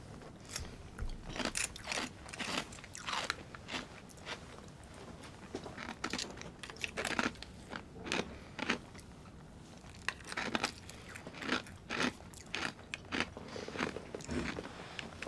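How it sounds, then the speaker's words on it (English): Crunchy Cinnamon Toast Crunch crackers eaten with yogurt, heard as a long run of close, sharp bites and crunchy chewing in irregular bursts with quiet gaps between them, no speech. "the cinnamon taste is evident in these little crackers"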